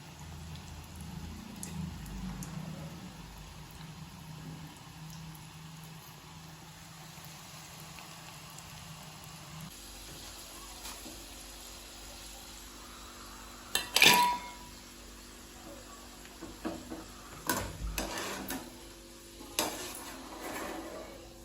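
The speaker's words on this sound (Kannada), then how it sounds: "ಎಣ್ಣೆ ಕಾದೈತಿ, ಸ್ವಲ್ಪ ಬಿಟ್ಟು ನೋಡೋಣ" Potatoes for french fries go into hot oil in a village kitchen, giving a soft, steady sizzle that turns quieter partway through, with a few sharp utensil clinks and knocks near the end.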